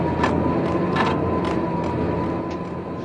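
A loud, steady mechanical hum and rumble drones continuously with a faint tonal whine and periodic soft clicks as a train powers on in the video game Max Payne.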